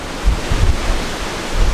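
Strong wind buffets the microphone with low, rumbling gusts in Australia, steady and loud throughout with no voices.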